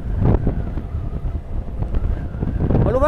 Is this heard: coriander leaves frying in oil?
no